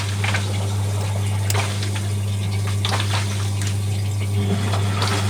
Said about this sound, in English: It's pumping out. I can hear it.